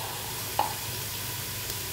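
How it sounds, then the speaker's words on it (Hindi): Mutton fries with garlic and ginger in a pot, a steady low sizzle with one faint stir or clink, close and even, no voices. "तो अब गोश्त को लहसुन अदरक के साथ भी पकते हुए 2 से 3 मिनट हो गए हैं"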